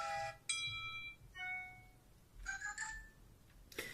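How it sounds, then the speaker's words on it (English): Several short classical iPod Touch 5 ringtone snippets on iOS 7 play in turn, bell-like and melodic tones that change every second or so, fairly quiet, no talking. "you do have a classical folder here with even older ringtones"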